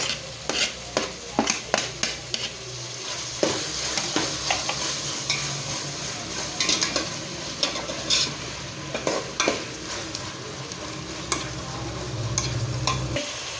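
Tomato sizzles steadily as it fries in a pan, with a spoon scraping and stirring in repeated clatters throughout, close and fairly loud, no voice.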